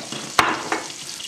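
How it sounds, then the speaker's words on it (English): Butter and flour roux cooking in a pot, a soft steady sizzle broken by a sharp utensil clack and a second lighter scrape as it is stirred, close and quiet. "I'm going to make a quick roux."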